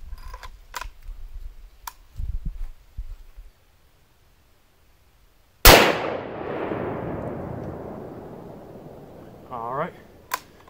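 One loud, sharp 30-06 rifle shot fired at paper plates outdoors, followed by a long echoing decay, after a few quiet handling knocks and a short murmur of talk.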